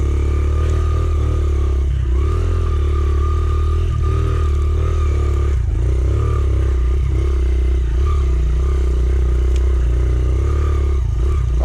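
A Honda CRF100F dirt bike ridden on an unfamiliar trail, its small engine droning steadily and loudly throughout with slight rises and dips in revs, alone with no talk.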